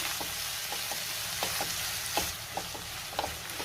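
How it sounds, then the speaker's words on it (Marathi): Chopped tomato sautés in a pan for a masala egg fry, a soft steady sizzle broken by repeated spatula taps and scrapes at an uneven rhythm, with no talk. "टोमॅटो सुद्धा थोडा परतून घेणार आहे मी"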